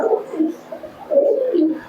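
A short run of soft, rolling coos from desi Giribaj pigeons, two or three low throaty phrases heard close and alone.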